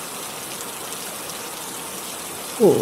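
Rain in an animated Bengali village cartoon sounds as a steady, dense hiss of falling water, even and unbroken, followed by a brief louder bump at the very end.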